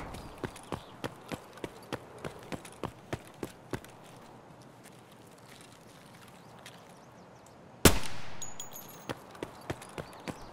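Pistol shots ring out in the Escape From Tarkov video game, starting with a rapid string of fairly quiet regular cracks, then a pause, then one loud close shot with a ringing tail, followed by more quick shots.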